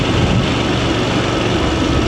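VOGE DSX 900 motorcycle engine running in third gear while riding, a loud, steady broadband drone with wind rush and no change in pitch across the stretch.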